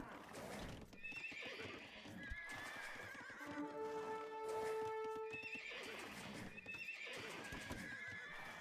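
Scout cavalry horses in the video game Age of Empires 2 neigh in a couple of clear whinnies, with clip-clopping hooves and battle ambience around them, at moderate volume.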